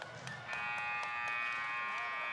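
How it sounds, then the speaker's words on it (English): A game-clock buzzer sounds at the end of a half in a college men's basketball game, TAMUSA versus College of Biblical Studies. One loud, sustained electronic blare holds steady over gym crowd noise to the end. "Ball Journey Phillips beating the buzzer up and under"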